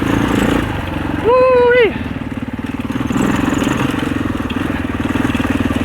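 650 four-stroke enduro dirt bike climbing over rocks on a trail, a close, pulsing engine chug that rises and falls, with a short whooping shout over it.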